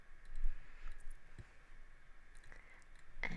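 Computer mouse clicks while setting up a pocket scrapbooking yearbook page, a few quick sharp clicks spread over a few seconds against a quiet hum, close and faint.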